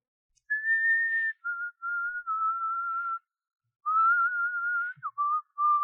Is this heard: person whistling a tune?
yes